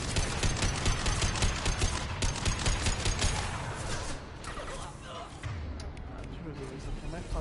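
Rapid bursts of gunfire from Mass Effect 2 Legendary Edition crackle densely for the first half, then thin into scattered shots beneath ongoing game sounds and a player's voice.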